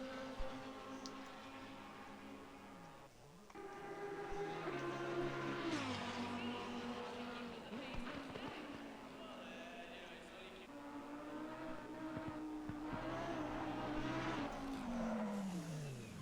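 Lamborghini Super Trofeo race cars at Monza roar past one after another, engines rising and falling in pitch through gear changes, loud and continuous, with a commentator talking over them.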